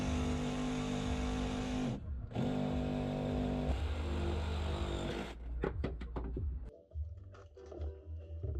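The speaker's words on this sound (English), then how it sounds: "Using this awesome snap-on sawzall, I cut out the hole for the radio." A Snap-on reciprocating saw cuts a hole for a VHF radio in a boat's panel, a loud, close, steady buzzing whine with one brief pause, followed by a few sharp knocks and clatters as the cutting stops.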